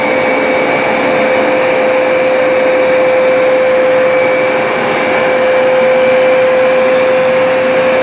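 Hoover SmartWash floor cleaner running its wash cycle, a loud, steady motor whine with a constant high tone and airy rush, close and unbroken throughout.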